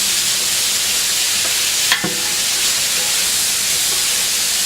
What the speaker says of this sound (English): How much do we have to cook them, Elena?